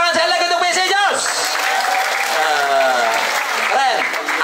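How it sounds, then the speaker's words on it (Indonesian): At an English and character camp at a villa, a group claps while loud, close voices shout and cheer over the clapping throughout. "Tepuk tangan saya lagi untuk PEC"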